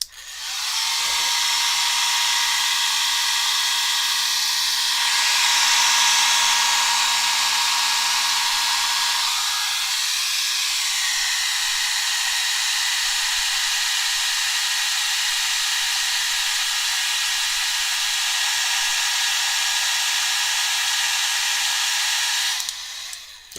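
A hair dryer blows steadily on a wet watercolor landscape painting, a loud close continuous whirring hiss that holds nearly unchanged for over twenty seconds before cutting off at the end.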